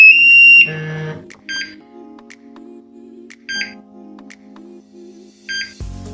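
An ALTAIR 4X gas detector starting up after its on-off button is pressed gives a loud electronic tone, then a series of short, bright chirping beeps at irregular intervals over a faint steady hum.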